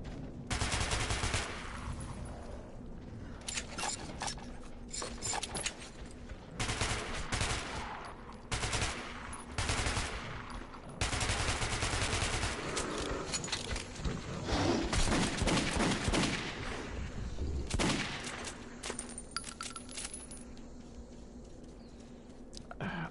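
Gunfire from a weak weapon in the first-person shooter Metro 2033 Redux, with repeated bursts of shots over a dense, busy game soundscape across the whole stretch.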